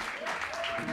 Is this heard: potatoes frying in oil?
no